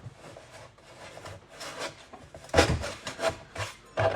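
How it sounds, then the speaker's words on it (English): Someone scrapes old glue off a wooden kitchen cabinet with a hand tool, producing a series of short, rasping scrapes that come in uneven bursts, a few of them louder and closer than the rest. "Take it off, feel the glue,"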